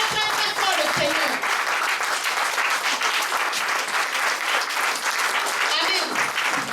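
A church congregation applauds loudly and continuously, a dense wash of clapping from a crowd with voices mixed in, sustained at full level from start to finish.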